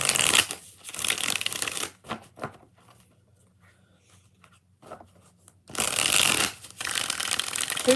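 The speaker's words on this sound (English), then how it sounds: "Two more shuffles for Monty." Tarot cards being shuffled in two loud bursts of riffling and flicking, one at the start and another near the end, with a quiet stretch of faint soft handling between them.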